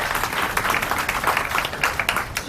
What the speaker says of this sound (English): Can we have a round of applause for Peter?